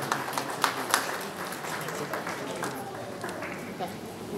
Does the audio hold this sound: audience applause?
yes